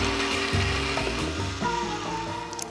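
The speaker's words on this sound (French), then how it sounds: "Passez la chair au mixeur avec un peu de jus." Kitchen blender puréeing fresh tomato flesh with a little juice, a steady whirring motor hum with shifting pitch as the contents churn, close and continuous for a few seconds.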